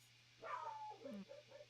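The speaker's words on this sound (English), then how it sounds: "I don't know who she's barking at." A dog gives a faint, distant bark followed by softer yips and whimpers indoors in a front room, over a low steady hum.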